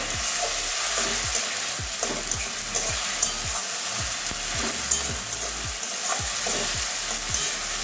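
Tomato paste frying in a pan with garlic and ginger, a steady loud sizzle with repeated scraping stirs of a spatula throughout, close up and without talk.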